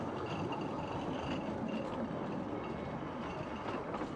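A 1950s narrow gauge locomotive, petrol or diesel, runs steadily nearby with a continuous rumbling engine drone and rolling rail noise, no voices over it.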